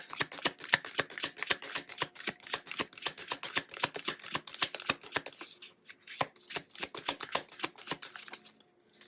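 Tarot cards being shuffled by hand, a rapid series of crisp riffling flicks and soft slaps repeating in close, quiet bursts, pausing briefly near the end.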